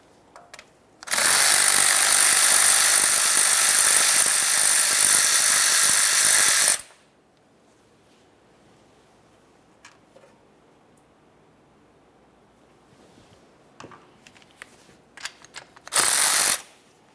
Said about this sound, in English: Now we can start removing our 2 mounting bolts